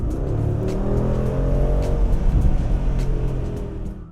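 Mercedes G63 AMG pulling away, a deep close engine rumble with low throaty harmonics swelling steadily over a few seconds and easing slightly at the end, no voices.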